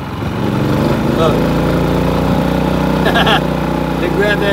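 A Predator 3500 generator from Harbor Freight runs steadily under load powering a 15,000 BTU air conditioner, a loud continuous engine drone close by, with a voice talking over it.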